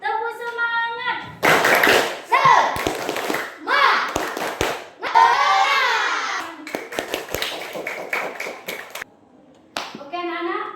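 Schoolchildren in a classroom perform a rhythmic clapping ice-breaker chant, loud sharp hand-clap bursts in quick patterned groups, mixed with children's voices chanting along, with a teacher's voice leading at the start and end.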